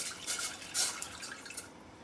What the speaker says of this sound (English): Pour in 1 cup of water